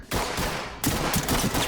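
Close, loud bursts of rapid gunfire in the tactical shooter Ready Or Not, several quick volleys crackling one after another over a short stretch with no voices.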